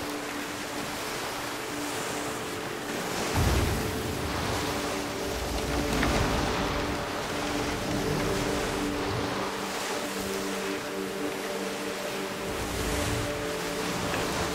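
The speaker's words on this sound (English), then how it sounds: "There are monster waves here." Heavy ocean waves surge and crash continuously during a storm at sea in the pirate game Skull and Bones, a loud, steady roar of surf with swelling peaks and a low rumble beneath.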